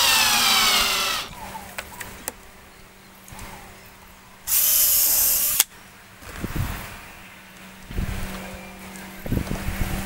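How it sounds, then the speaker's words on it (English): A power drill drives a screw into the wood of a louvered trellis fence panel. A loud, whirring burst of about a second stands out mid-clip, with a shorter burst at the start and quieter workshop knocks around them. "I'm leaving two holes free and then putting a screw in."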